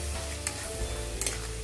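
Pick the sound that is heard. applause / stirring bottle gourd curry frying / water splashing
stirring bottle gourd curry frying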